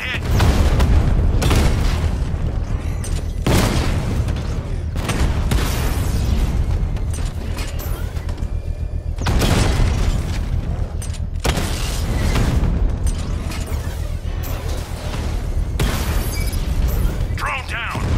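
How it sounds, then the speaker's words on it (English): A Mamba drone takes hits in Batman: Arkham Knight, with repeated heavy booms and bursts of impact and explosion noise over a constant rumbling game mix, punctuated by several sharp loud blasts. "Mamba drone taking damage."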